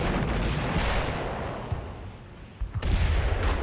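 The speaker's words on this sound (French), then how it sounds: "Mais soudain, des coups de canon tonnent." Cannon fire from a World War I artillery bombardment near Seicheprey in Lorraine rolls out as deep, rumbling booms, several heavy blasts with a sharp strike near the end, loud and reverberant with no voices.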